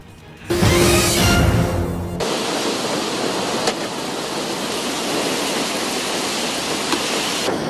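Heavy thunderstorm rain in Metro Manila pours in a dense, steady hiss, with a louder roaring burst at first before settling into a constant downpour.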